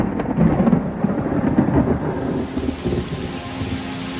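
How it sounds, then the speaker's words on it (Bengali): Rain and rolling thunder: a loud, low rumble in the first two seconds over steady, dense rainfall that continues alone afterward. "আজকের মতো সেই দিনে ছিল বৃষ্টি ভেজা দিন।"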